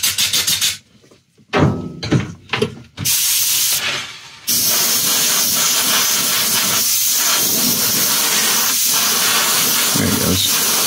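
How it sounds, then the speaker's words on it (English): Spray paint hissing onto a plastic model kit part for a 1/60 NeoGrade Sazabi, in several short bursts at first, then one long continuous close, loud spray. "this stuff you want to spray pretty close to the surface"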